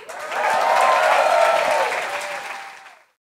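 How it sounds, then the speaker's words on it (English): A live audience at a podcast show in London breaks into dense applause that swells quickly, holds for a couple of seconds, then fades and cuts off. "Let's get a round of applause."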